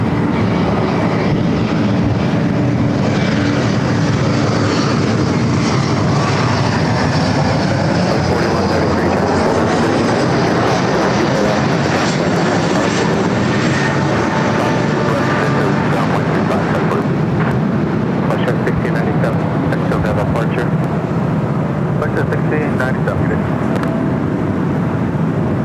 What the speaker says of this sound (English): Air Queen taking off there on the south side.